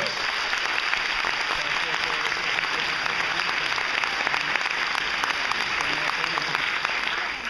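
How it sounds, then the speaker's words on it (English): An audience at a film festival bursts into sustained applause for a guest cinematographer, a dense, steady wash of clapping that stays loud and even from start to finish. "the whole audience burst into applause when they learned you were here"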